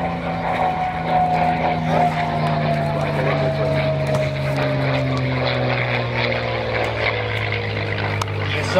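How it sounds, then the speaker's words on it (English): A P-51D Mustang propeller fighter flies past, its loud, steady piston-engine drone filling the air while the pitch slowly sinks as it moves along. "listen to the sound of history in the P51 Mustang"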